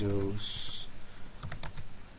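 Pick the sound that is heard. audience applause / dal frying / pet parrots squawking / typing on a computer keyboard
typing on a computer keyboard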